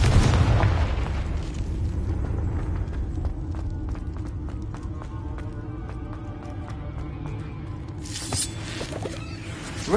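A Confringo blasting spell from a Harry Potter video game bursts with a loud boom at the start, then rumbles and crackles in a long sustained roar with scattered pops, flaring again near the end.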